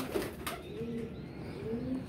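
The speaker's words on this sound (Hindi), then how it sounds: "लाखा कबूतर हमारा बैठ गया जी" Soft pigeon cooing, a couple of low throaty coos close by, with faint outdoor background and no talking.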